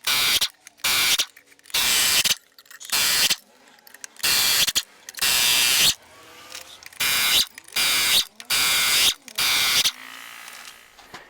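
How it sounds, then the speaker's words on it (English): A ratchet loosens the flywheel bolts on a Kenworth K100 truck, sounding as a series of about eleven loud, close, buzzy clicking bursts, each lasting under a second and separated by short pauses. "we're gonna take out these bolts in this flywheel"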